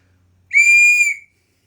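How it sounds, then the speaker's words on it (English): A survival kit whistle gives a single sharp, loud, steady blast of under a second, alone in silence. "So this is a whistle."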